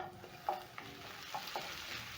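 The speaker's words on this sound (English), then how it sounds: "Then I'm going to stir and let this cook until the white onions are soft." A white onion fries in oil in a pan over medium heat, making a faint, steady sizzle. A few quiet scrapes and taps come from stirring.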